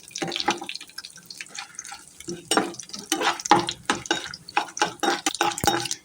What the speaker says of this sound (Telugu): వేసుకున్న పోపు గింజలు చక్కగా చిటపట్లాడుతున్నాయి